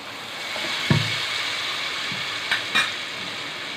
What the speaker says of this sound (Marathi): मी फोडणी दिले राई जिऱ्याची, कढीपत्ता लसूणची